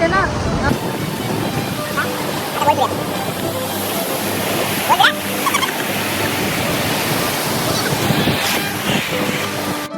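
Sea waves wash onto the beach at Dapoli on the Konkan coast, a loud continuous surf roar with wind buffeting the microphone and people talking faintly nearby.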